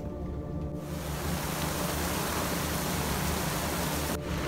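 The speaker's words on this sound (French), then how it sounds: "le grain est sur nous, il pleut, il y a du vent et des éclairs." Rain squall with wind lashing a boat anchored in the San Blas islands, a dense, steady roar of rain and gusts that starts abruptly, holds loud and even, then cuts off just before the end.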